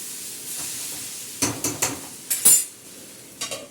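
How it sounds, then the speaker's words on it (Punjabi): A spoon stirs bitter gourd through fried onions in a pan, with scraping and clinks against the metal over a soft sizzle, in short bursts. "ਆਪਾਂ ਹੁਣ ਇਹਦੇ ਵਿੱਚ ਹੀ ਕਰੇਲੇ ਪਾ ਦਿੱਤੇ ਆ ਤੇ ਇਹਨੂੰ ਵਿੱਚ ਚੰਗੀ ਤਰ੍ਹਾਂ ਮਿਕਸ ਕਰ ਦਾਂਗੇ"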